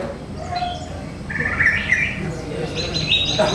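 A female pet bird chirps in short bright bursts, with one sustained trilling phrase in the middle and more chirps near the end, over a steady hum of room noise.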